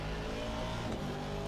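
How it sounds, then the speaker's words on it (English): On board an Aston Martin V8 GT3 race car, a loud continuous engine roar that holds a steady rasping note, close and unbroken for a moment. "we do love to hear the V8. So on board with the Aston Martin as it sings its beautiful music"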